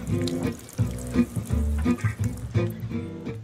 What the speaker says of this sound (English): With this, I'm going to water from the top.